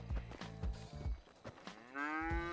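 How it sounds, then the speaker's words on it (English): A cow moos in the video game GTA 5, one long low moo rising at the end, close and loud, following a few dull thumps. "There's a mad cow in here, bro."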